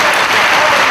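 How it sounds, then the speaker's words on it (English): Wrestling fans in a Chicago arena burst into loud, sustained applause, a dense wash of clapping that fills the whole moment without letup. "And a round of applause from the fans here in Chicago."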